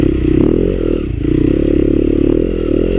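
A Yamaha YZ250FX dirt bike is ridden off-road, its engine droning loud and close with a steady, slightly wavering pitch as the throttle shifts, with no voices over it.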